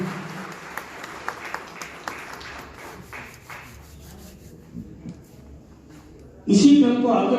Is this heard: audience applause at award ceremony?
yes